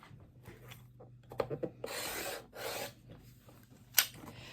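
A fabric quilt block being cut through to make half-square triangles: several short, close scraping strokes, then a longer steady rasp and a final sharp scrape, with no talking.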